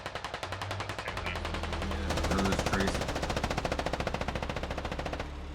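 Gunfire in the military shooter Squad, a sustained fast-repeating machine-gun burst that runs steadily for several seconds at close range, loud and rhythmic without a break.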